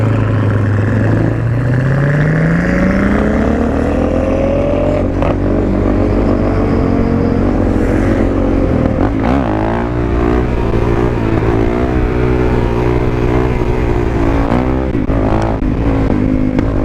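A race car on a track revs hard, its engine pitch climbing steadily before settling into a loud, sustained drone with shifting gear changes and surges, close and dominating throughout.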